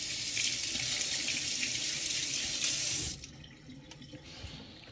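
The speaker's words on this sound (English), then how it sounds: "I'll wash my hand." Hands are rinsed under a running kitchen tap, a steady bright rush of water that cuts off abruptly near the three-second mark, leaving faint drips and quiet kitchen sounds.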